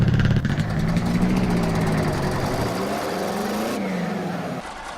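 A harvester engine in a farming video game runs steadily and loudly throughout, a continuous mechanical drone that eases slightly near the end, with no talking.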